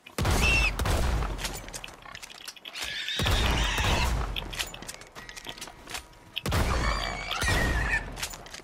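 Sawed-off shotgun in Red Dead Redemption 2 firing three loud booming shots spaced a few seconds apart, each followed by a rattling reload and a horse whinny in the background.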